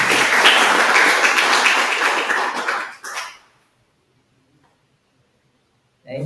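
Applause for a correct answer in a high-voltage cable skills lesson: dense clapping fills the first three seconds, then fades into near silence before a brief burst resumes at the end.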